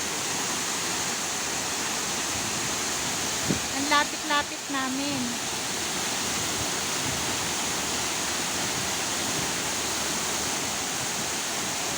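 Hinulugang Taktak waterfall roars as a loud, constant rushing of falling water up close, while a person briefly speaks over it partway through.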